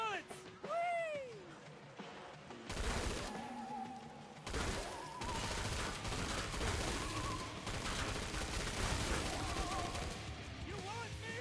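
Rapid gunfire bursts in the Killing Floor 2 video game, dense and loud through most of the stretch, with game sound effects and a voice speaking over it.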